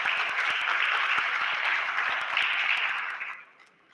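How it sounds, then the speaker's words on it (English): An audience applauds Heifer International at the AYuTe Africa Nigeria grand finale in Lagos: dense, steady clapping from a large crowd that holds for several seconds, then thins and fades near the end. "Please, a round of applause, please, for Heifer International."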